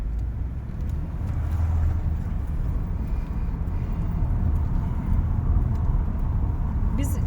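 A car approaches on a narrow Swiss mountain road, its low engine rumble building steadily and staying close, with faint voices from inside the vehicle.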